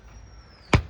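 A butcher chopping pork at an Assamese market stall: one sharp, heavy cleaver strike lands close and loud after a quiet stretch, preceded by a thin faint whine.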